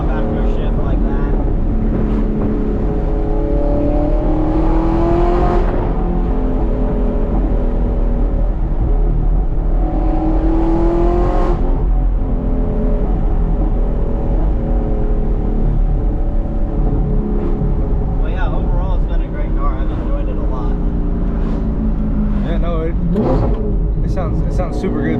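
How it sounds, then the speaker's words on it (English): Straight-piped Audi R8 with a gated manual gearbox revving and pulling hard, loud engine roar rising and falling through shifts with occasional exhaust pops, while people talk over it throughout. "You'll occasionally get a pop after a shift like that."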